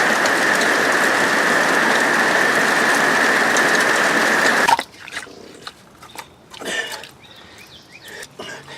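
Heavy rain pours down outdoors during yard work digging drainage around a house, a loud steady wash of noise that cuts off abruptly, leaving quieter scattered sounds afterward.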